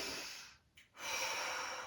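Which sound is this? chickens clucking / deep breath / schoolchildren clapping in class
deep breath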